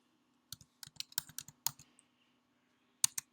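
Quick bursts of keystrokes on a computer keyboard while logging in, crisp close clicks in two clusters separated by a short pause, over a faint steady hum with no talk.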